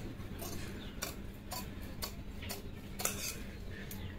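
Scissors snipping through blouse fabric during tailoring, a crisp run of sharp clicks roughly every half second, close and steady with no voices.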